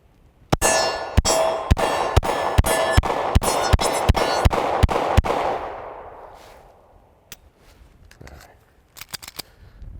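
A Shadow Systems DR920 pistol fires about a dozen sharp shots in rapid, steady succession, loud and close, each followed by ringing echo, then a few fainter metallic clicks and handling noises afterward.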